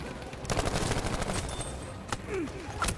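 Battlefield V gunfire rattles in rapid bursts of overlapping shots, a dense fusillade of machine-gun and artillery fire at mid distance with sharp individual cracks near the end.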